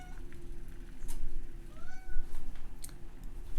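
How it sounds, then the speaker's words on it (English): A house cat meows repeatedly at close range, a few short rising calls standing out over a steady low hum of kitchen appliance noise. "Had to let the cat outside so she would stop meowing at me"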